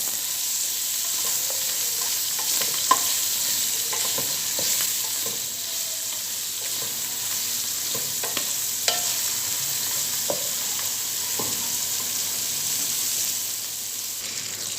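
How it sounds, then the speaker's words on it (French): Onion stirred into tomato paste in a hot pan for a meat thiou, giving a steady close sizzle with scraping strokes of a spoon running through it, no voices. "j'ajoute un peu d'oignon. Un petit peu, comme ça. Et je mélange le tout."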